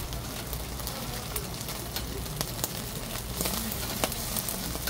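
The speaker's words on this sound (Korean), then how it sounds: "지글지글." Eel grilling at a Korean eel restaurant, giving a steady, close crackling sizzle with dense spitting pops and fat crackles throughout, alone without talk.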